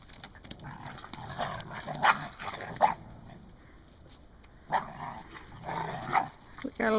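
Puppies at play give scattered yips, small barks and whimpers in short bursts, fairly faint and at mid distance, with a little human voice in the background.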